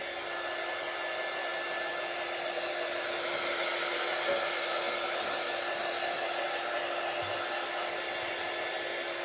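A hair dryer blows steadily and fairly loudly at close range to dry a craft piece, a constant even whoosh that runs throughout without any talk.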